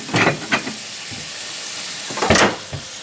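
Potatoes fry in oil flavored with fresh herbs, a soft, steady sizzle in a pan with a few louder hissing bursts as food is moved, close and without talk.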